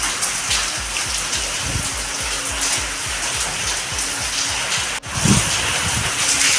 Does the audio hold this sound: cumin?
no